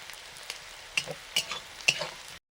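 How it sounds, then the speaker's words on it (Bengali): Beans, capsicum and carrot are stir-fried in a hot wok right after frying egg, with a steady soft sizzle punctuated by three or four sharp scraping strokes of a spatula. "সবজিগুলো দিয়ে দিচ্ছি বিনস তার আগে দিলাম ক্যাপসিকাম এখন দিচ্ছি গাজর"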